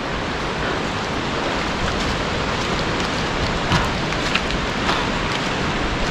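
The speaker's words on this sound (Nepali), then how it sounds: "पानी हो कि सिट हो छुट्याउनै सकेन मैले त" Rain or sleet falls steadily at high altitude in the hills of Dolakha near Charnawati, a dense, even hiss with faint scattered drop ticks, close and continuous throughout.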